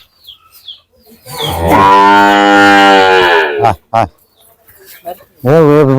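A Sahiwal breed bull calf lets out one loud, long, drawn-out moo at close range, with a man's short calls before and after it.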